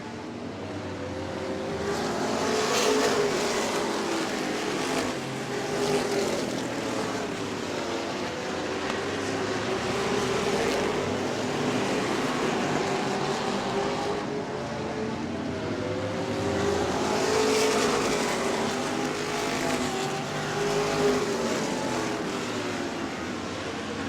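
Sprint cars race around the dirt oval at Auburndale, engines roaring and rising and falling in waves as the pack passes at a moderate distance, with no talk over them.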